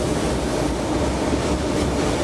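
A passenger train rides along, heard from inside as a loud, steady broadband rumble and rush with no clear clicks or breaks.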